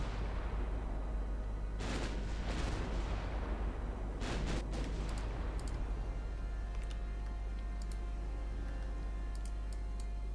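Heavy naval gunfire in the Ultimate Admiral Dreadnoughts naval warfare game, set in 1910 with German warships: several deep booming salvos, each a broad burst, ring out over a constant low rumble, then sharper distant cracks follow.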